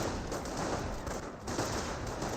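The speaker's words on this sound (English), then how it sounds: "This rifle squad is receiving a bit of fire." Gunfire crackles through a Company of Heroes battle as a US rifle squad comes under fire: dense overlapping rifle and machine-gun bursts in a short continuous volley, with a brief dip midway.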